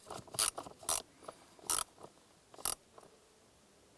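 Ratchet with swivel and extension snugging down a bolt during a 2015-2020 Cadillac Escalade blower motor replacement, a few quick close clicking bursts with short pauses between.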